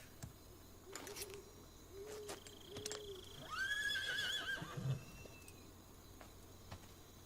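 A horse whinnies clearly in the middle of Metal Gear Solid 3 game audio, preceded by a few soft hoof clops over quiet ambient background noise, with no talking.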